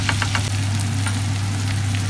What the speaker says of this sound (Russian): Потихонечку еще жарим, пока жарим.